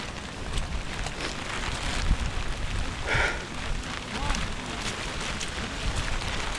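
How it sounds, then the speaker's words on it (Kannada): Rain falling during a hike on the Gangadikal trek, a steady soft hiss of drops on surfaces and foliage, continuous and moderate with a brief louder patch partway through. "ಸ್ವಲ್ಪ ಮಳೆ ಕಮ್ಮಿ ಆಯಿತು"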